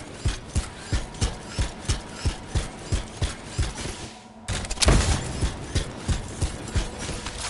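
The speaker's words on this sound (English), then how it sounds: "It'll be a contained explosion." Canisters blow up in a contained explosion in the video game Anthem, a sudden heavy burst about midway that follows a steady run of evenly spaced thumping beats.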